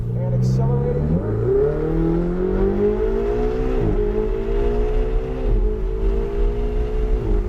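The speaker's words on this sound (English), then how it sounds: "we're going to get onto the straightaway and accelerating here" A Ferrari 488 GTB accelerates hard down a track straightaway, its engine note climbing steadily and stepping down briefly at each of several quick upshifts, loud and close throughout.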